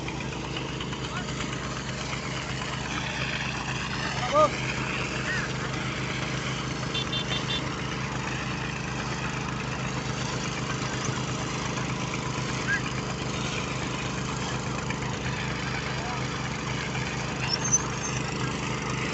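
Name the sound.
petrol water pump with motorcycle engine running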